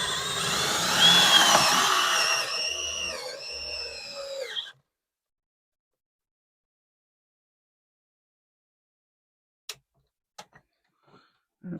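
A drill bores into cedar with a 3/4 inch Forstner bit, a loud whirring grind that slows and winds down after about four seconds, followed by silence and a few faint clicks.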